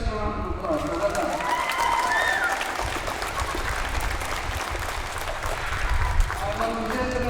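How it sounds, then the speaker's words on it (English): Crowd applause for the school teams at the Cumann na mBunscol 2023 county final, Tourmakeady versus Ardagh, a steady wash of clapping with voices talking and calling over it throughout. "So give yourself a round of applause."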